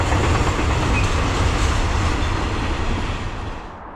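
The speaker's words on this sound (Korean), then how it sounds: "저는 직원분의 안내로 안전하게 회덕역을 통과하는 기차를 구경할 수 있었습니다" A train rolls through Hoedeok station on the Gyeongbu line, a loud, close, rumbling roar with a steady rattle that fades slightly toward the end.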